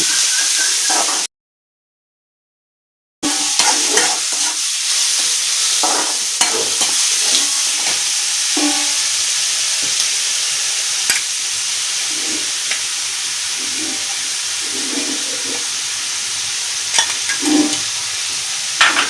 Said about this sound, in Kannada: ಇಲ್ಲಿ ತುರಿದಿಟ್ಟಿರುವಂತಹ ಬೆಟ್ಟದ ನೆಲ್ಲಿಕಾಯನ್ನ ನೀಟಾಗಿ ಎಣ್ಣೆಯಲ್ಲಿ ಬೇಯಿಸ್ಕೋಬೇಕು